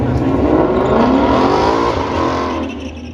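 A Shelby GT500 Mustang runs at a drag strip during midnight racing, its engine giving a loud, sustained roar as it accelerates away. The sound fades slightly toward the end.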